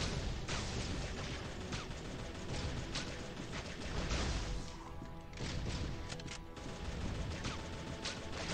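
Gunfire during a boss fight in the Diablo-style mobile action game Broken Dawn 2, a dense, continuous barrage of crashing shots and impacts over roughly eight seconds, constant and unbroken, with no talk.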